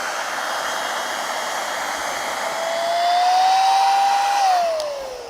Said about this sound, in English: Anyway, we'll pump this pillow up.